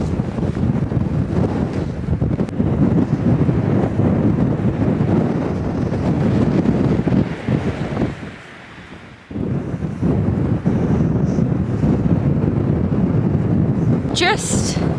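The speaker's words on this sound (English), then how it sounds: "so windy" Heavy wind in the Scottish Highlands roars and gusts against the microphone almost continuously, easing briefly midway before surging back.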